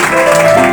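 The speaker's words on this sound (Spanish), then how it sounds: "Esperando tus ofrendas de aplauso" Church congregation clapping during a Spanish-language worship service, a brief, loud wash of dense applause with a steady tone running underneath.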